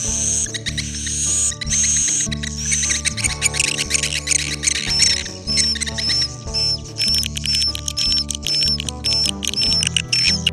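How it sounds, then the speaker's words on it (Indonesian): Recorded cave swiftlet calls play inside a swiftlet house: dense, repeating high chirps and clicks layered in a steady electronic-sounding loop, loud and continuous. "Suara burung walet ini sendiri diambil dari rekaman suara burung walet di dalam gua."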